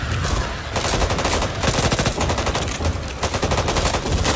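Rapid gunfire from zombie shooting in the Back 4 Blood video game: dense, continuous bursts of automatic fire that hammer on loudly for the whole stretch with only brief dips.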